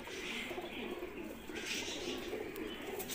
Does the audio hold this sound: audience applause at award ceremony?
no